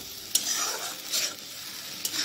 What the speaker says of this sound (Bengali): তো মশলাটা চলো একটু কষিয়ে নিই